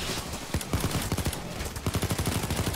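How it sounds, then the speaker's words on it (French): Gunfire shootout in Payday 2, rapid bursts of automatic weapon fire and overlapping shots in a dense, loud, fairly regular rattle over continuous game noise. "Un fusillade, voilà, au calme."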